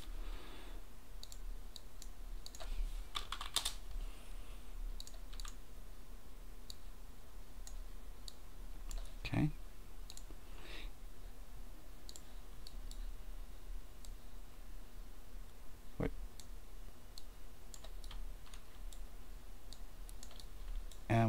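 Sparse, quiet clicks and taps on a computer keyboard and mouse while working in Unreal Engine 4, scattered irregularly over a steady low hum with no talking.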